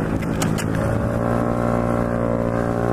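A slammed Honda Ruckus scooter rides along close by, its small engine droning steadily and loudly, with a couple of quick knocks near the start as it rolls over bumps.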